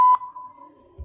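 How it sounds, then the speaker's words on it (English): A single steady electronic buzzer beep lasting about a second, followed by a soft low thump, from a rat pole-climbing conditioning apparatus. "Press the buzzer,"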